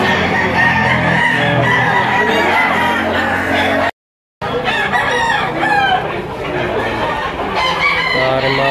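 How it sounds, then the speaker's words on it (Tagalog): Roosters crow repeatedly and chickens cluck amid a busy outdoor fowl market in Lipa City, Batangas, with a brief dropout midway and a dense, continuous layer of bird calls and crowd noise throughout. "Ayan, may dalaw na yung manok si Boss Arnold"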